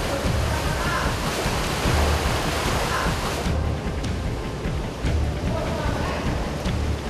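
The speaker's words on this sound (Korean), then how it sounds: "바닷물이 무섭게 밀려 들어오자 작업자들의 마음은 더욱 급해집니다" Seawater surges into a sea cave on the incoming tide at an Indonesian swiftlet-nest harvesting site, a steady, loud roar of rushing water and breaking waves that continues without a break.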